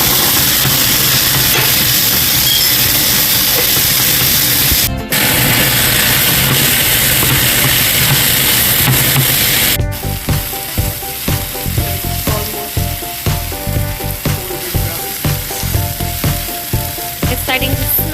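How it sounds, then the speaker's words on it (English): Ginger, about a heaping tablespoon, frying for aloo sabzi in a pan, a loud dense continuous sizzle that turns crackly and spattering with stirring scrapes partway through. "It's sizzling away."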